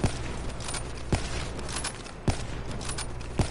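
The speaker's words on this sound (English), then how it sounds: "I love this ray gun." A ray gun fires in Call of Duty: Black Ops 3 Zombies, sounding as sharp, evenly spaced energy blasts roughly once a second over a dense, steady bed of game noise, with no voices.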